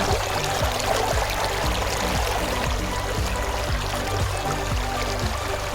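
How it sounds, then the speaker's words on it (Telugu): Steady rushing water from a waterfall at Nagabhairava Kona in the Nallamala hills pours and splashes continuously nearby, a dense broadband roar with no voices. "ఈ వాటర్ అన్నీ ఆ పైన కనిపిస్తుందా మీకు కనిపించట్లేదేమో అక్కడి నుంచి వస్తున్నాయి ఆ వాటర్ ఫాల్ నుంచి"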